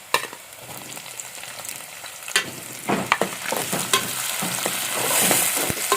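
Onion and tomato fry in a pan, a building sizzle punctuated by repeated scraping stirs and sharp spatula taps that grow busier and louder over time, with no voices.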